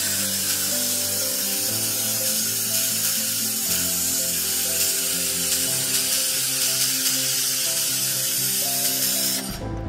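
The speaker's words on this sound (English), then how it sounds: "5mm carbon steel welding." A 1500 W laser welding machine welding 5 mm carbon steel, giving a steady loud hiss with a constant tonal hum throughout, ending abruptly.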